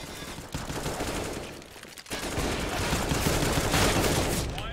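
Counter-Strike: Global Offensive gunfire from two enemy players, a dense, continuous barrage of close, loud shots that briefly drops out near the two-second mark before resuming at full intensity.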